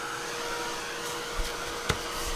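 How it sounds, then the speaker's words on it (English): A heat tool blows hot air steadily onto paper painted with glue, a constant whooshing roar with a couple of faint knocks partway through and no talking. "we're going to just shoot it with a little bit more heat"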